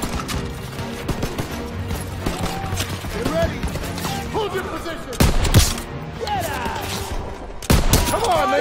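Gunfire in the Call of Duty WW2 campaign mission Stronghold, a steady rattle of rifle and machine-gun shots with two heavy booming blasts, loud and close, while soldiers shout in the background.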